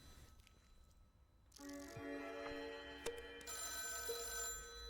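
A telephone rings with a bright electronic bell in the horror game Deep Sleep, starting abruptly after a quiet dark moment and sounding loud and close over a low ambient hum, with no talking.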